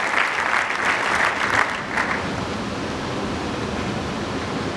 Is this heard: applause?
yes